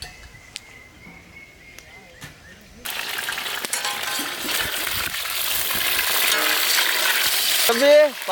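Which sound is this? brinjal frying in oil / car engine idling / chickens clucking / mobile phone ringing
brinjal frying in oil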